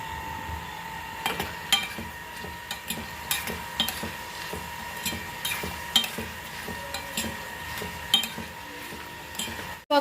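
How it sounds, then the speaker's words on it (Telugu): Cucumber pieces and dried shrimp lightly frying in oil for a curry, with a low steady sizzle broken by repeated clinks and scrapes of a spoon stirring against the pan, no voices. "ఇప్పుడు దోసకాయ ముక్కలు వేసుకోవాలి. ఇవి కూడా కొంచెం ఫ్రై చేసుకోవాలి. లైట్ ఫ్రై చేసుకుని"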